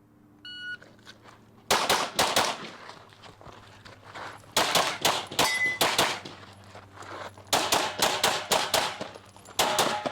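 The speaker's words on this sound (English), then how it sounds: "I'm shooting a DRP" Sharp rifle shots from a DRP at a shooting match ring out close and loud, several cracks spread across the stretch with metallic clanks and handling noise in between, against a low steady hum.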